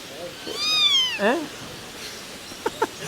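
A cat gives a long, drawn-out meow up close, followed a moment later by two short, softer chirping meows.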